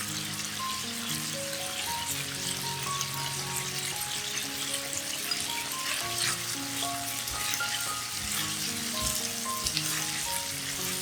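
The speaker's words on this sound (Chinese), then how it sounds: "放入红辣椒和九层塔炒一炒。" Red chili and Thai basil stir-fried in sesame oil for three-cup lion's mane mushroom, giving a steady close sizzle with light stirring scrapes, continuous throughout with tonal music layered over it.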